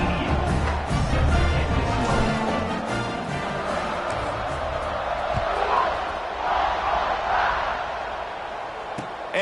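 A stadium crowd roars in the College Football 26 video game before a kickoff, a broad sustained din swelling and easing, with a commentator talking over it.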